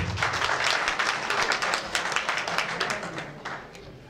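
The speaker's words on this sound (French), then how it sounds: "Applaudissements s'il vous plaît." Audience applause at an award ceremony, a dense wash of many hands clapping steadily and fairly loud, slowly tapering toward the end.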